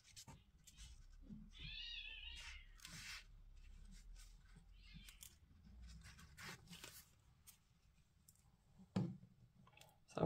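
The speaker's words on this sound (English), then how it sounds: "Sounds like a cat fight outside." Cats fighting outdoors, heard faintly from inside: drawn-out wavering yowls and screeches rising and falling, distant and quiet, with light clicks and handling noises nearby.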